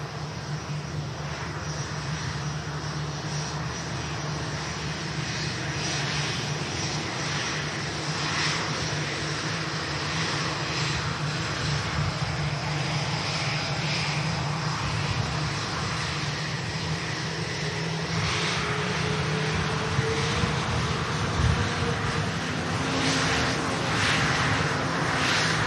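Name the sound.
airliner from Bangkok arriving at Manchester Airport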